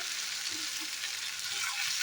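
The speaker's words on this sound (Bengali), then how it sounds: "দেখো কেমন একটা ভাজাটা হচ্ছে" Boiled potatoes fry in a pan with a steady, close sizzling hiss that holds evenly throughout, with faint stirring beneath and no voices.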